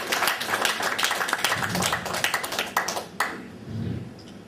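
A church congregation claps hands together in a dense, lively burst of overlapping claps that thins out and fades, with voices mixed in near the end.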